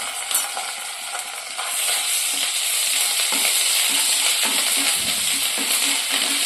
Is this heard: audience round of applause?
no